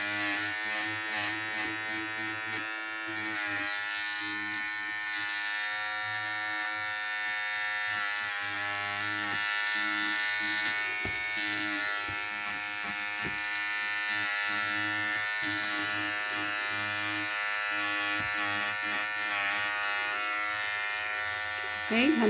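A small electric trimmer, like an electric razor, shaves loose threads off oriental needle embroidery, giving a steady, close buzz that runs unbroken for the whole stretch.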